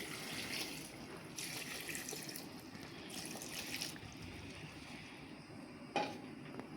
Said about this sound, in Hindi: अब डालती इसके मुताबिक थोड़ा सा पानी